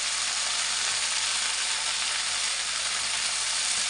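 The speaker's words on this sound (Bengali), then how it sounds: "এখন আমি কলমি শাকটা দিয়ে দেবো।" Kalmi greens (water spinach) hitting a hot wok after onion, garlic and green chilli have fried, giving a steady, dense, even sizzle close by with no voices.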